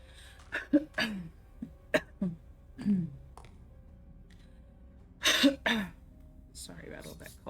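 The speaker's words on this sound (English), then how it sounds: "Sorry about all that coughing." Several bursts of coughing and throat clearing from a nearby person, irregular and spaced out over a few seconds, with a pair of louder coughs near the end, during a play session of The Secret Order 8: Return to the Buried Kingdom.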